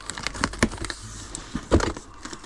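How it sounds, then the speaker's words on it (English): Mystery box from a trade outlet being cut open, scattered sharp scraping and tapping bursts of a blade working through cardboard and tape, close and fairly quiet with short pauses between strokes. "Let's open it up. Trying not to cut into the stock that I've got."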